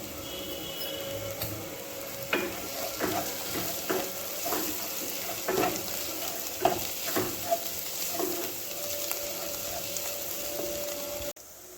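Food is being stirred and mixed in a frying pan as it sizzles steadily, with repeated scraping strokes of the spoon at irregular intervals and no talking.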